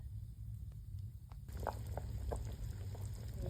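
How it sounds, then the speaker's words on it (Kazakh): Sheep stomach stuffed with meat and trotters boiling hard in a pot on a hot stove, a steady low bubbling rumble with scattered pops and gurgles, close and fairly quiet, no talk. "күшті болып қайнап, толқылдап тұр, пештің үстінде пісіп жатыр"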